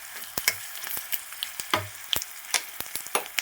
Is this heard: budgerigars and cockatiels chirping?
no